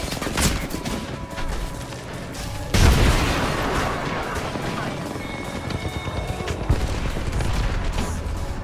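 A frag grenade goes off in a video game with one sudden loud blast near the three-second mark, followed by a sustained rumble of gunfire and battle noise that carries on to the end of the clip.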